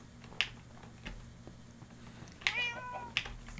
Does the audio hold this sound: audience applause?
no